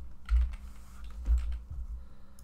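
Keys on a computer keyboard being typed, a few soft clicks with two heavier thumps, likely the space bar or enter, close and quiet at an uneven pace, with no voices.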